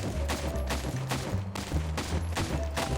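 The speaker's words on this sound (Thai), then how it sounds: "นี่ผมยิงรัวมาก" Rapid fire from a syringe gun in the game Melon Playground: a dense, fast burst of repeated shots, loud and continuous throughout.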